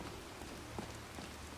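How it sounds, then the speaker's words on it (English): Steady rain in Skyrim VR hisses evenly and softly throughout, a faint continuous patter with no voices. "So it's raining"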